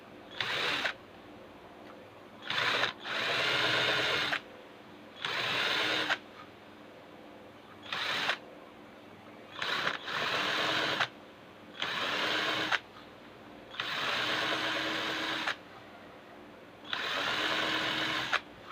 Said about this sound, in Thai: ช่างจะใช้สว่านดอกไม่ค่อยคมมากนักนะครับ